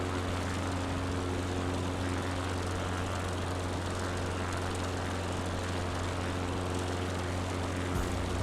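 Steady droning propeller aircraft engine, over-revving, in Microsoft Flight Simulator 2020, a constant loud hum with a fixed pitch throughout.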